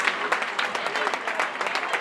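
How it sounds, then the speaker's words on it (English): Fans applauding and cheering at a swimming championship, a steady wash of clapping with rhythmic surges, fairly close and continuous. "As you can hear the fans behind us, it is obviously a very big achievement. Crowd is excited."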